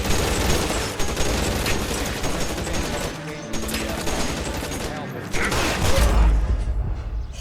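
Video game gunfire crackles in dense, rapid volleys almost without pause, loud and close, with a few brief dips and heavier booms near the end, under intermittent talk.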